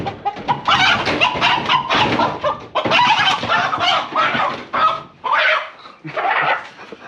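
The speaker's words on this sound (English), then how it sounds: "Screaming chicken." A chicken in a backyard garden setting lets out loud, harsh, repeated squawking calls in close bursts throughout, with brief pauses between cries.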